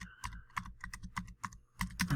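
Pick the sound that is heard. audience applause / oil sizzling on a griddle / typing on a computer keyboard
typing on a computer keyboard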